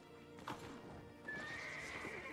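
A horse in the video game Albion Online whinnies once, followed by a run of hoof clip-clops; the effects are fairly faint and clear.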